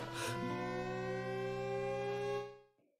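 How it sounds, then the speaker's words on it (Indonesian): A siren wails in a single sustained, loud, steady tone lasting about two and a half seconds before fading out. "Kemudian terdengar suara sirine."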